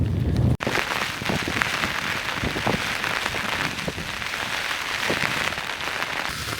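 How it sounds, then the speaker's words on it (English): Heavy rain hammers down in the Drakensberg mountains, with strong wind. It makes a dense, unbroken roar of drops on surfaces that is loud and steady throughout, with no voices. "The rain is hammering down and the wind is pretty strong too"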